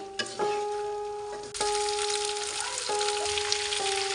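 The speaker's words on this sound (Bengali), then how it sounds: "গুলাকে দিয়ে এবার নেড়ে ছেড়ে একটু কষিয়ে নিচ্ছি" Dried mango pieces stir-fried in a pan for mango pickle give a steady sizzle with a few sharp clinks, while a constant tonal hum runs underneath.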